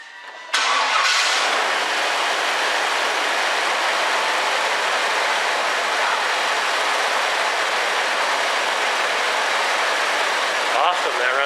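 A 1999 Chevrolet Suburban engine cranks briefly and catches, then idles steadily and loudly for several seconds with a continuous even rumble, close to the vehicle.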